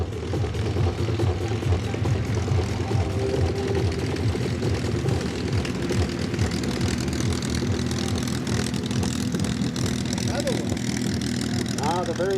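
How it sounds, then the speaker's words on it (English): Propeller-driven P-51 Mustang warbirds running at the Bremerton Air Show, a steady loud engine drone with throbbing low harmonics that holds throughout, crowd voices audible underneath. "so that we can get our beautiful P-51 Mustangs past them"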